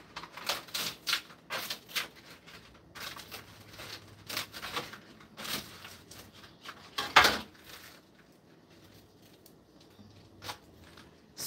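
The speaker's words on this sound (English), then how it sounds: "So I'm cutting these in fours because they're going to be serving as a spoon." A knife chops potatoes into quarters on a cutting board, a quick series of light taps and knocks, fairly close and steady at first, then sparser and quieter.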